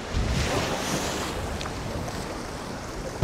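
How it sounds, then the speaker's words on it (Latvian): Strong wind gusts roar and buffet the microphone at a lakeside fishing spot, a loud continuous rush with no voices. "Tas vējš tik stiprs, ka viņš pūš viņu atpakaļ"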